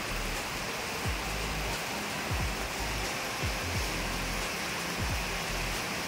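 Heavy, continuous rain pours down outdoors during a days-long downpour, a steady dense wash of noise with occasional low thuds, no voices.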